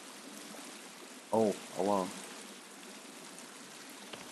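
Water flowing inside a cave in the video game The Forest, a faint steady rushing wash that continues throughout while a man briefly exclaims over it.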